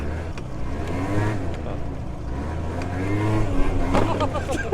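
A 1997 Peugeot Zenith moped scooter engine revs and strains as it accelerates at full throttle, droning steadily with rising pitch, up close, with a voice briefly heard over it.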